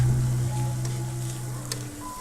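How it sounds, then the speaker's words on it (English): Flour being stirred into hot oil and fat in a pan for a roux for meat pies, with a steady close sizzle and faint scraping of the stir. "We're going to sprinkle our flour in and kind of mix it around."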